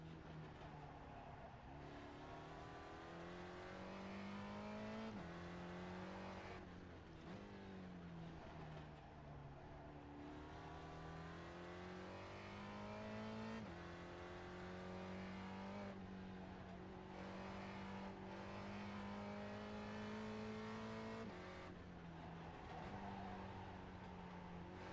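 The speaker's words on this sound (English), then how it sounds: "But the car's still running." A race car engine at Oran Park drones continuously at close range, pitch rising and falling as it shifts through gears around the track, with brief dips between pulls.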